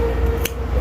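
Scissors give a single quick snip through yarn while crocheting an amigurumi piece, a brief crisp click over quiet room tone.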